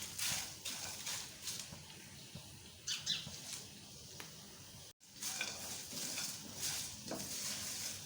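Biryani masala spices roasting in a pan over a low flame, stirred steadily with a spatula: soft scraping and faint sizzling strokes, quiet and close, repeating irregularly without talk.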